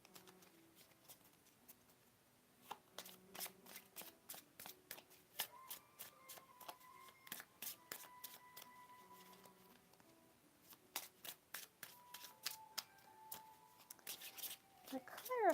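Tarot cards being shuffled by hand, close and fairly quiet, in repeated bursts of crisp riffling and flicking, with a short pause in the middle before the shuffling resumes.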